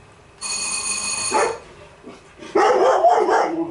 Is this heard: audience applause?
no